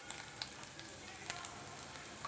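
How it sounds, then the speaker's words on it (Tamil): Cumin seeds and gram flour frying in a pan for paneer bhurji, a steady close sizzle with small pops and crackles throughout, no voices. "சீரகம் வெடிக்கும் போது நம்ம ஒரு ஸ்பூன் அளவுக்கு கடலை மாவு சேர்த்துக்கலாம்."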